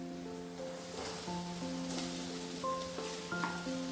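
Mashed potato added to a hot frying pan for masala bonda filling, giving a soft steady sizzle with faint scraping and stirring, no talk.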